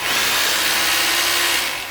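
An INGCO RGH9028 800W rotary hammer drill runs freely after being switched on, a smooth, steady high-pitched motor whine with no hammering, loud and close, holding evenly throughout.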